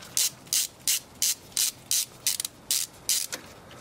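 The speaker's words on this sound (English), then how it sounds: "Now you're just going to be using regular ratchet to just remove these two bolts." A regular ratchet loosens brake caliper bolts on a Ford Taurus, giving about ten evenly spaced bursts of crisp clicking, close and steady, with no voices.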